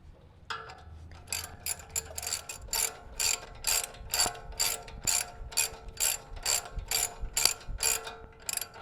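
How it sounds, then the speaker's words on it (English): A ratchet clicks in quick, even bursts while tightening small bolts on the brakes of a 4th-gen Toyota 4Runner, close and crisp, with about a dozen pulls in a row and no talking. "now we're just gonna tighten up these little bolts."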